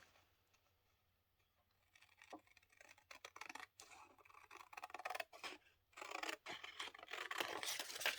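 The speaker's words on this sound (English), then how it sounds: "I want to cut out these names." Scissors snip and crunch through paper to cut out names for a collage, starting after a quiet moment and then running as close, busy, rustling cuts with brief pauses.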